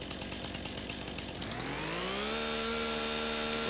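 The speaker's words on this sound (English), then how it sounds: "So let's get our chainsaw out." A chainsaw in the farming video game Farming Simulator 25 is pulled out to clear a stump, first idling with a rough, pulsing putter, then revving up into a loud, sustained, high-pitched whine.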